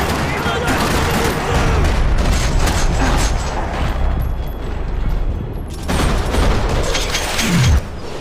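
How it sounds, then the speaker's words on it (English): Gunfire in the Max Payne 3 video game during a parking lot shootout, loud sustained bursts of shots and booms rattling densely, with a brief drop in intensity before the barrage resumes. "Another parking lot rattling with gunfire."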